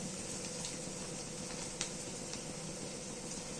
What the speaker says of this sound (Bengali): তাতে আমি তেল গরম করে জিরে, শুকনো লঙ্কা আর আদা বাটা, রসুন বাটা, কাঁচা লঙ্কা কুচি সবই প্রথমে দিলাম